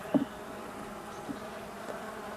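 A steady, low buzzing of honeybees at an apiary hums throughout, soft and continuous, with a few slightly louder passes close by.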